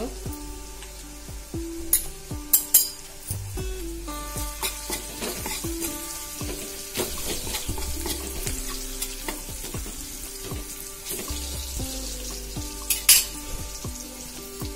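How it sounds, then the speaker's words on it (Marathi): Turmeric and asafoetida dropped into hot oil for a monsoon-season fish curry give a crackling fry close by, with a spoon scraping and stirring. Sharp metallic clinks against the pan rise above the sizzle. "तर यामध्ये अर्धा चमचा हळद टाकते, थोडंसं हिंग"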